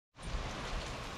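Steady winter rain falling on a farm on a 37-degree January day, a dense continuous hiss that starts abruptly and holds level throughout, close and fairly loud.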